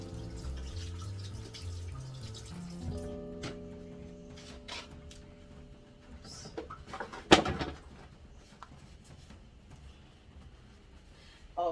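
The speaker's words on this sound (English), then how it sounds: "I'm gonna wash my hands because I have to make my dumplings." Hands washed under a running kitchen tap before making wheat dumplings, water splashing steadily at first, then fading into softer trickles and drips with a few louder clatters, birds faintly audible nearby.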